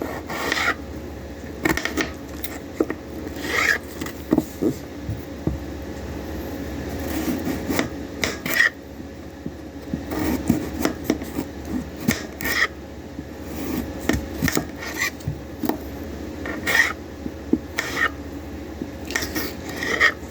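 A knife slices potatoes into fry strips on a board, giving repeated soft scraping cuts and light knocks in an uneven rhythm, close and moderately quiet, with no talking.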